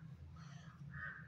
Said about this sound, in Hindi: तो यहाँ पर कौवे भी बहुत सारे होते हैं, देख लीजिए पूरा काला कौवा है।